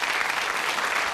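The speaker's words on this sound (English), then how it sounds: "A round of applause," A television game-show studio audience breaks into loud, dense applause, a brief, steady burst of many hands clapping close and full.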